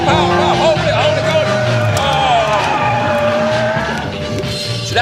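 A racing car is driven flat out on a track, its engine roaring loudly with tires squealing through a turn as someone talks over it.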